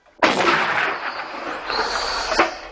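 A single heavy artillery blast from a British L119 howitzer booms suddenly and loud, then rolls and echoes for a couple of seconds before a second sharp report near the end.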